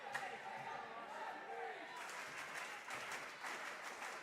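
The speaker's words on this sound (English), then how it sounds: "the student section is giving a Hillman fan clap your hands type chant" A high school student section claps rhythmically and chants together in a large echoing gym during a varsity volleyball match, steady and energetic, with a busy roar of voices underneath.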